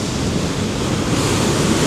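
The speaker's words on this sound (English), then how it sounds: "the waves are smashing against these rocks" Rough sea waves crash against the rocks at Eystrahorn on the Icelandic coast, a loud continuous roar of surf with wind buffeting the microphone and no voices.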